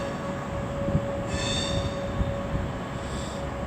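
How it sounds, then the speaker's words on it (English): A Pendolino train arrives at London Euston station, a steady rolling rumble with a sustained tonal hum and a brief high wheel squeal in the middle, moderately distant. "And we've got a Pendolino coming in as well."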